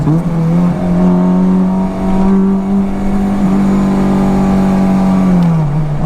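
A supercharged Honda S2000 making about 380 bhp pulls hard under acceleration, its engine note rising and holding loud from inside the cabin, dipping briefly and climbing again through the revs.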